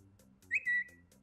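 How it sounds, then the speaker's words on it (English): A short, bright electronic Twitter tweet notification chirp sounds twice in quick succession, standing out clearly over a faint low background hum. "you'll hear the Twitter tweet sound go off to let the player know that it has been successfully tweeted"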